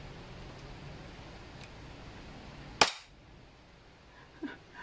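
A steel-slide Umarex Glock 17 Gen 3 airsoft pistol fires one loud, sharp gas blowback crack up close over a faint background hiss, followed by a small click a moment later.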